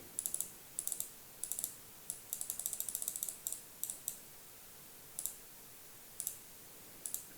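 A computer mouse clicked during a jQuery web page demo: crisp, close clicks in irregular bursts, some single and some in quick rapid runs, with quiet pauses between and no talking.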